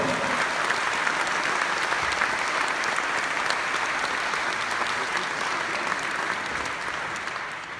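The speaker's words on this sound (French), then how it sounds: "je voudrais que vous leur fassiez un tonnerre d'applaudissements parce qu'ils le méritent vraiment" Audience at an opening gala claps for the organizing team, a long sustained round of applause from a sizable crowd that stays strong and tapers gently near the close.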